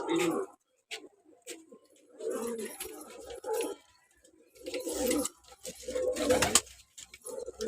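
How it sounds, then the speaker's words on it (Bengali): Giribaz pigeons coo softly in repeated low bursts, with faint shuffling and brief voices in between. "দেখুন সব গিরিবাজ পায়রা আছে বিভিন্ন কালারিং আছে"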